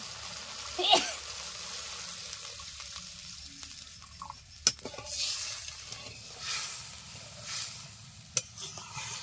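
Water poured into a pan of sizzling fried spice masala (turmeric among it, cooked until the oil separates) brings bursts of hissing and stirring scrapes. The sizzle swells and fades in several waves with a few sharp clicks from a utensil, and no voices.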